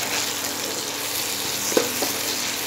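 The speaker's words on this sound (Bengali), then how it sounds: "2 মিনিটের মতো আমি সবজিগুলো ফ্রাই করে নেব" Mixed vegetables stir-fry over high heat with a little salt for Chinese-style mixed fried rice, a continuous close sizzle with a faint clink of the utensil partway through.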